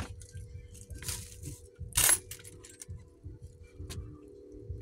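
Coins dropped and handled, several bright metallic clinks and one louder jingle in the middle, under quiet talk.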